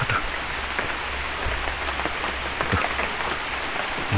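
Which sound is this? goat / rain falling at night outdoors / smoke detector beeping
rain falling at night outdoors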